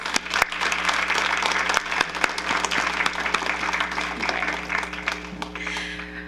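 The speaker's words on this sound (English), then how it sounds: "Let's give them one more round of applause." Sustained applause from a sizable crowd, steady clapping throughout with a few sharper claps standing out, no talking.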